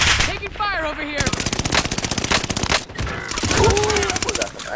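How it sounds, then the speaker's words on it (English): Rapid automatic gunfire in Call of Duty Warzone on Rebirth Island comes in long, loud, close bursts of evenly spaced shots, with brief voices in the background. "Taking fire over here."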